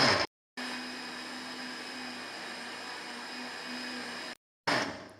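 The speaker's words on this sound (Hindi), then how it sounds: "ब्लेंडर को हम चलाएंगे" A kitchen blender purees watermelon for juice. Its motor starts abruptly and runs as one steady, loud whirring drone for about four seconds, then cuts off with short gaps before and after.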